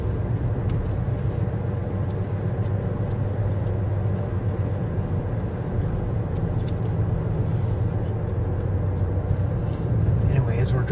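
Steady road noise from a car driving at dusk with headlights on, a continuous low rumble throughout, with faint talk in the background.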